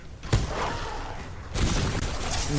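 Weapon fire in the sci-fi shooter Titanfall 2, two heavy booming bursts, one early and one about halfway through, each followed by a sustained roar of sound, loud and close with no talking.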